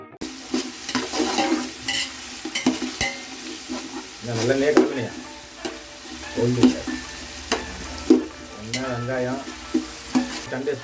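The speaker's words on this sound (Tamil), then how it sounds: "வெங்காயம் போட்டு நல்லா வதங்கி" Onions for spicy chicken dum biryani sizzle and fry in a pan while a spoon stirs and scrapes them in repeated strokes, close and steady, with occasional clinks of the pot.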